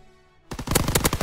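Rapid automatic gunfire in the Call of Duty World War II video game, a loud burst of closely spaced shots that starts abruptly after a quiet moment and continues to the end.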